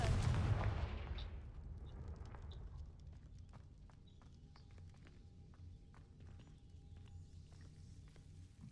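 A Confringo fire spell is cast in a Harry Potter video game, with a loud, booming blast at the start that fades into a dull rumble, followed by faint, scattered ticks.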